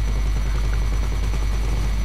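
A Valkyrie helicopter in Grand Theft Auto V flies during a lab raid mission, giving off a loud, steady, close rotor and engine drone with a dense low-end rumble. The drone runs continuously without a break and no voices are heard.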